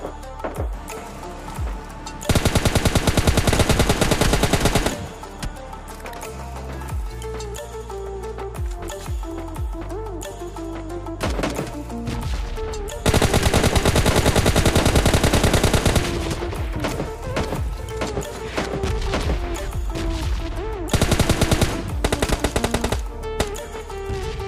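Gunfire from an M24 sniper rifle in the mobile game PUBG Mobile Lite plays as loud, dense bursts of shots that come and go over continuous game noise and music, with no talking.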